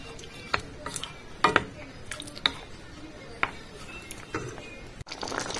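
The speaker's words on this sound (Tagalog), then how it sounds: "Slowly mix it." A spoon clinks and scrapes in a pan while pork and broccoli in a flour-thickened sauce are slowly mixed, with scattered ticks and knocks over a low cooking hiss.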